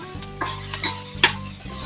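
Onions and peppers sauté in a pan with a soft sizzle while a utensil stirs and scrapes them. Several distinct clacks and scrapes come close up over the frying.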